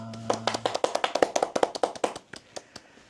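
Small audience at a Seoul International Book Fair bookshop event clapping to welcome a guest author: a quick run of sharp, close hand claps that thins out into a few scattered last claps, with no cheering voices.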